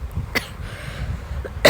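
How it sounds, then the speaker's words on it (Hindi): Two short, dry coughs, one early and one at the end, close to the microphone in an otherwise quiet room. "सॉरी, पता नहीं खांसी हो रही है"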